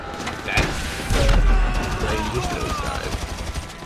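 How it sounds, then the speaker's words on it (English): Rocket launcher fire in GTA V Online, with sharp blasts and booming impacts bursting over ongoing gameplay noise and a rumbling low end. Several hits land within a few seconds. "That rocket launcher is outstanding."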